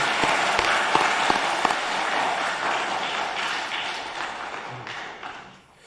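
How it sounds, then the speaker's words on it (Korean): A church congregation applauds to welcome visitors, a broad, steady wash of many hands clapping that fills the room and then fades away near the end. "우리 교회를 방문하신 손님들에게 진심으로 감사하는 마음으로 열렬한 박수로 한번 환영하겠습니다"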